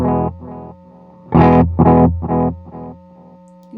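Electric guitar through a Walrus Audio Mako D1 delay pedal set for softened repeats: a few picked notes followed by a string of echoes that fade and grow more diffuse, close and fairly loud.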